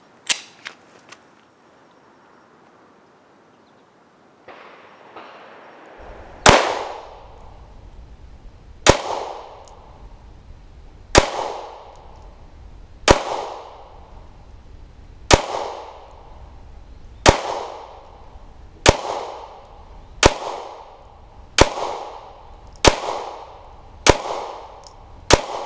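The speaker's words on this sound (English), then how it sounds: "see if we can make anything happen with 15 more rounds" A Polymer 80 pistol fires a series of single rounds at roughly two-second intervals, each a sharp loud report followed by a brief echo, with a quieter mechanical click before the first shot.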